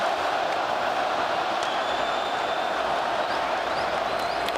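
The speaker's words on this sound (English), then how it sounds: "they're buzzing now in Montreal. This crowd has come alive on a Saturday night." A Montreal hockey arena crowd on a Saturday night roars in a dense, steady wash of noise that never lets up, with faint whistles and shouts rising here and there inside it.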